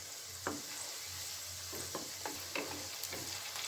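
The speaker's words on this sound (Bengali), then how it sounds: "প্রথম ব্যাচের পকোড়াগুলো আমি এখানে ছেড়ে দিলাম" Vegetable pakoras fry in hot oil with a steady bubbling sizzle, broken by several sharp spoon scrapes and taps as the batter pieces are dropped in and stirred.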